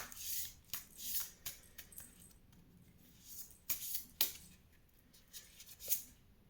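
Oracle cards shuffled by hand in a quiet room, a series of soft, crisp riffling bursts and light flicks at an uneven rhythm, close and fairly faint, with no talking.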